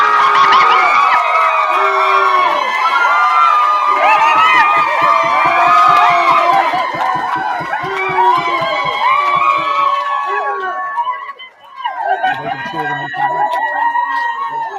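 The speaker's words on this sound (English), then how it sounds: "They cheer when you come back." A crowd at a humanitarian award show cheering and shouting loudly as a winner returns, with excited voices and whoops blending into a sustained roar that briefly dips before picking up again.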